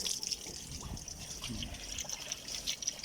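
Coolant water trickles and splashes out from beneath a car radiator during a coolant flush, a steady close liquid flow with irregular dribbling spatters and no talking.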